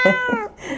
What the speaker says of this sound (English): That's my cat, Stella.